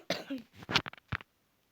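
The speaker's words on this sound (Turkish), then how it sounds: "Kusura bakmayın öksürdüm." A short burst of close coughs, two or three quick hacks, in an otherwise quiet room.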